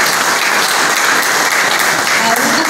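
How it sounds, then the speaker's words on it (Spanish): Audience at a women's ministry event against violence in Puerto Plata applauding a welcomed guest, loud sustained clapping filling the room without a break. "que yo quiero un aplauso"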